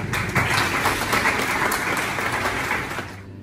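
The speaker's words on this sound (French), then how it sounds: "de l'accueillir par un chaud applaudissement" Audience applause welcoming a pastor at a nursing capping ceremony, dense warm clapping from a large crowd that stays full and steady before easing slightly at the very end.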